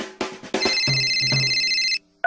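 Cell phone ringtone going off in a movie theater, a loud electronic ringing melody of repeated bright tones after a few short clicks, cut off abruptly, then a brief chirp returns.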